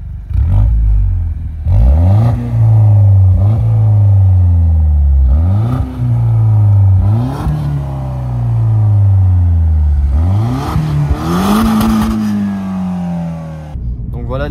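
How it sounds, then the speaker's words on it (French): A 2017 DS3 Performance Black Special with a 208 hp engine and six-speed manual starts, then revs repeatedly. The exhaust rises and falls in several loud, close blips, with no talk over it. "on entend bien le moteur, un son à l'échappement plutôt agréable"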